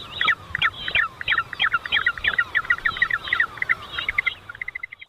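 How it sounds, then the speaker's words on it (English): Penguin call recording: a rapid series of harsh, honking, gobble-like calls in quick bursts, loud and close, lasting about five seconds. "that's not the sort of noise I would have expected a penguin to make"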